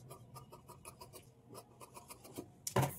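Scissors snip through blouse cloth in a run of short, evenly spaced cuts, close and fairly quiet, ending in a louder rustle of fabric being handled.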